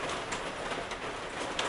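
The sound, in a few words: rain pattering on a metal roof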